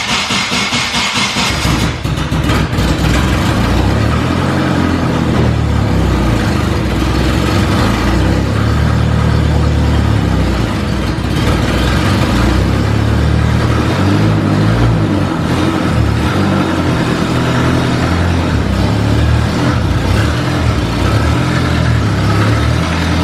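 A car fires up inside a garage and keeps running loudly, its engine settling into a deep, rough, continuous idle with some revving, close and filling the space throughout.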